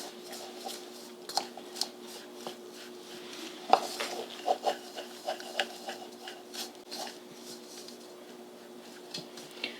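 A spoon scrapes and clinks against a bowl while cookie crumbs are mixed with melted butter for a keto thin mint parfait, producing irregular light taps and scraping strokes, fairly close and quiet.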